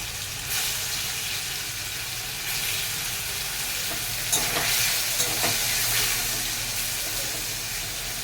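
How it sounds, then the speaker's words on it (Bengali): Turmeric-coated paneer pieces frying in oil in a pan, a dense, steady hiss of sizzling that swells louder partway through with a few sharper crackles, close and constant. "হলুদ মাখিয়ে এখন পনিরটা ভেজে নেব।"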